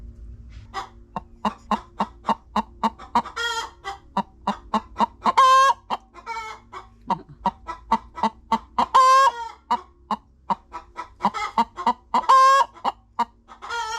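Hens cluck repeatedly near a new replacement nesting box in a backyard flock of chickens, with a steady, fairly close run of clucks punctuated by several louder drawn-out squawking calls.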